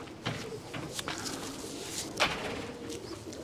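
Pigeons in a loft cooing softly, a few low throaty calls over steady background noise with faint shuffling, moderately close.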